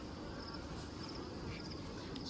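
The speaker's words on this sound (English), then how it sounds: "Too many bees on this one still." Honey bees buzz in a continuous low drone around an open hive frame, a close, steady swarm hum with no voices.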